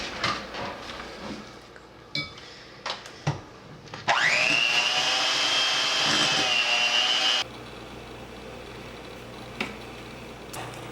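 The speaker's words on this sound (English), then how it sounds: "Make sure you have your mixer on low speed while you're mixing the mascarpone with the eggs." An electric mixer on low speed beats mascarpone with eggs, a steady whirring hum lasting a few seconds after some clinks and taps of utensils, then cutting out to quiet kitchen sounds.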